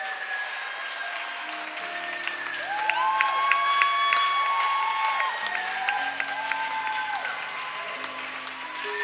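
A church congregation at a Sunday service claps and cheers in praise of God, sustained applause with voices rising over keyboard or organ tones that swell midway and carry to the end.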